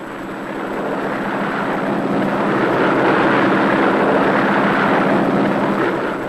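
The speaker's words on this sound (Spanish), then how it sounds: "Este biplano fuerte y resistente fue uno de la serie Hawk" Propeller drone of a Curtiss Hawk biplane in flight, a steady broadband roar that swells over the first seconds and holds loud and close without voices.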